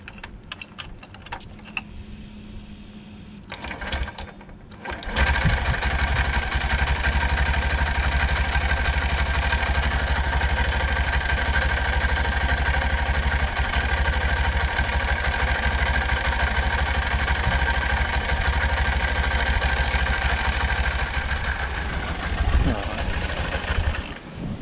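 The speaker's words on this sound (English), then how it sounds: "Now we're going to run the bike for a couple of minutes just to cycle that oil through" A 2023 Honda CB125F motorcycle engine starts after a clutch replacement and oil change, then idles steadily and loudly close by with a busy mechanical clatter for about twenty seconds.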